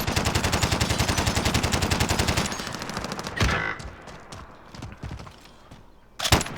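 Rapid bursts of M91 light machine gun fire in Call of Duty: Warzone, a loud sustained rattle of shots that breaks into scattered single shots and another short burst near the end.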